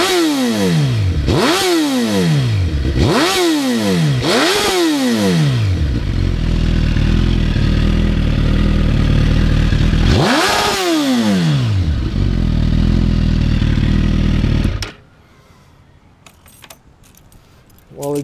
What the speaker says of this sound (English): The exhaust, good airflow. The sound is amazing.